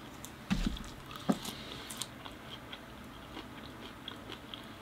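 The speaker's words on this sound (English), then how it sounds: "these are pretty good tasting leaves. I can't stop eating them." Fresh leaves bitten and chewed close up, a few crisp crunchy bites early on followed by softer, quieter chewing sounds over a low background hiss.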